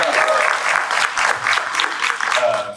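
A conference audience at WordCamp Phoenix applauds the organizers and volunteers, a steady wash of many hands clapping from a room-sized crowd, moderately loud and sustained without speech.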